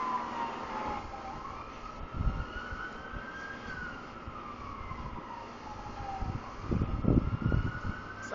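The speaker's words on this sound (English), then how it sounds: "Sounds like the fire department's doing the job." A fire department siren wails in the distance, its tone slowly rising and falling over steady outdoor background noise, with a few louder low thumps and rumbles near the end.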